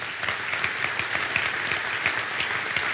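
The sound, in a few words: audience applause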